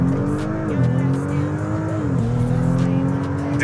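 An Audi with a stage 3+ tune accelerates hard, its engine note climbing loud and close before dropping sharply at two quick gear shifts, then pulling again; no one speaks.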